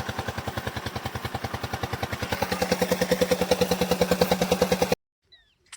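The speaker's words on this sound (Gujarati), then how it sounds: "આ એન્જિન, મતલબ રિક્ષાનું એન્જિન છે." An auto-rickshaw engine mounted on a crop sprayer running at a steady idle, a rapid regular thumping putter up close that rises slightly in loudness, then cuts off abruptly near the end.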